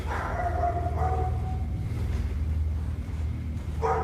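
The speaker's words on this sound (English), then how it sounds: "There's a dog." A dog barks a few times over a low hum, with short separate barks near the start and a sharper one at the end.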